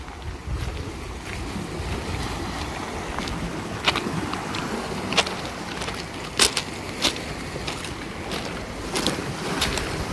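Sea water spills and washes out between concrete breakwater blocks on a beach at Lazarevskoye, Sochi. It makes a continuous close rushing wash with wind buffeting the microphone and a few sharper splashing bursts.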